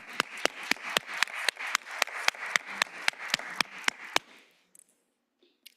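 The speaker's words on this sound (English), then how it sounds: "Let's clap them up" At a Cincinnati Public Schools board business meeting, people applaud teachers for Teacher Appreciation Week with crisp, evenly spaced claps in a steady rhythm that stop after about four seconds, leaving near silence with a few small knocks.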